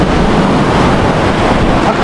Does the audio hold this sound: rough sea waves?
yes